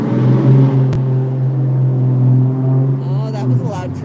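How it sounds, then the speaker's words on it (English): A very loud truck rumbles past nearby, its heavy engine droning steadily with a deep hum for several seconds before fading, and a voice briefly sounds near the end. "That was a loud truck. A very loud truck."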